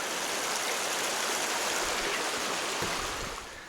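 Panther Creek flows just below a forest hiking trail, giving a steady broadband rush of running water that stays constant and fairly close before easing slightly at the end.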